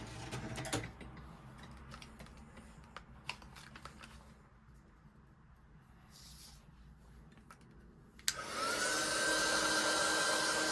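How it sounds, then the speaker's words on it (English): A heat gun warming embossing powder on a card from underneath, switching on after a quiet stretch of faint handling noises and then blowing with a steady, loud, close airy whoosh and a thin whine. "I'm going to heat from underneath with my heat gun to stop the powder blowing away."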